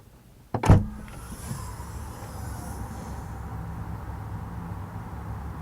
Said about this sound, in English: Getting to the trunk of the all-new CX-3, it has a high opening as you just now witnessed.